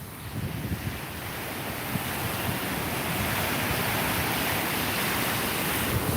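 Steady roar of ocean surf washing onto a sandy beach, continuous broadband wash with soft wind noise on the microphone, no voices, building slightly louder over the six seconds.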